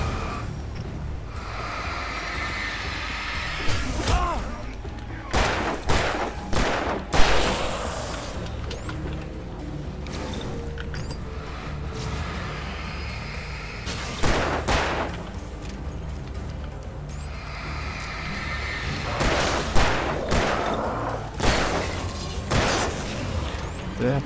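Gunfire from the video game Alan Wake Remastered: sharp shots spaced out over steady in-game ambience, with someone talking at points.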